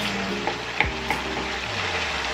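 Diced potato frying in a home kitchen pan sizzles steadily and close, with a few light clinks of a utensil stirring and a faint low hum underneath.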